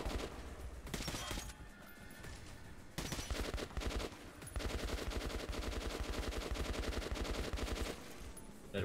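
Rapid automatic gunfire from the video game Metro 2033 Redux, with bursts of dense, rhythmic shots that stop and restart, then a long sustained volley near the end, loud and up close.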